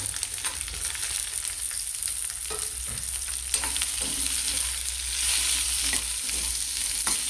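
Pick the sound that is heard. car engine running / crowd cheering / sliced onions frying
sliced onions frying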